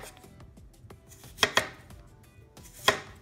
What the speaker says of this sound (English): Would you like to do the honors of chopping this up?